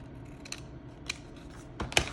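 Scissors cut paper for a planner in a few short, crisp snips spaced apart, close and fairly quiet in an otherwise still room.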